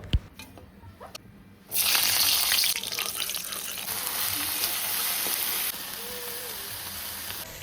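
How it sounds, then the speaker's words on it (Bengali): Leafy greens and potato dropped into hot oil, where a quiet start gives way to a sudden loud, steady sizzle up close that eases slightly later on, with occasional stirring sounds. "মা এখানে শাক আর আলু কাইটা সেরা রেডি কইরা দিছে। তেলে চলো অখন এইটা সুন্দর করে রান্না কইরা দেই"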